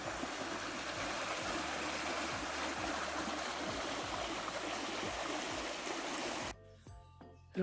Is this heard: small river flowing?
yes